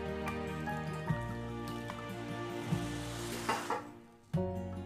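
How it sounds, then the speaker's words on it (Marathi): Plain water poured over chhena in a straining cloth for rasmalai drips and trickles through the fabric, a soft, steady wet patter with a few sharper splashes and a constant low hum underneath. "यावर आता आपल्याला साधं पाणी ओतायचं आहे."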